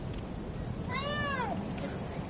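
A single drawn-out cat meow rises and falls in the Bloodborne video game, heard once over a steady hiss of background noise.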